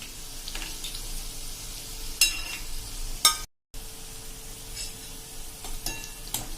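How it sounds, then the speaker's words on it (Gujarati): Semolina bhajiya frying in hot oil give a steady crackling sizzle, with occasional sharp clinks of a slotted spoon as pieces are lifted out to drain, and a brief silent gap midway. "તો જો આ રીતે આપણે ભજીયા સરસ એવા તરાઈ ગયા છે ટર્ન કરીને."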